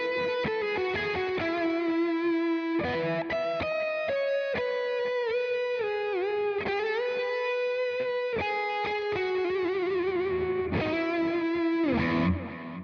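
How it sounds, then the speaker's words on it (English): Electric guitar lead tone through a Friedman amp model on a Neural DSP Quad Cortex, playing a distorted melodic solo with bends, vibrato and quick runs, loud and close with no talking. "and then of course the Friedman for my lead tone"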